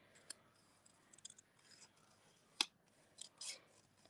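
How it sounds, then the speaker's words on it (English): Scissors fussy cutting a large script paper sentiment: faint, sparse snips and clicks, with one sharper cut partway through, in a quiet room. "always steer with the hand that's holding the paper and not the hand that's got the scissors"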